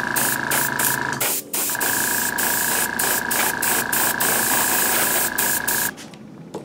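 Spray paint hisses steadily from an airbrush or aerosol as black is faded into silver on laser-cut parts for a studio-scale model taxi cab, in long continuous bursts with a brief break, then cutting off near the end.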